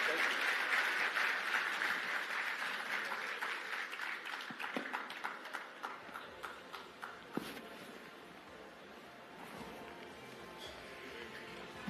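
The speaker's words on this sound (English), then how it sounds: "I think they deserve a bigger round of applause than that." Audience applause at the 32nd Afreximbank Annual Meetings in Abuja, Nigeria, a broad sustained clapping that fades over several seconds into scattered individual claps before dying away.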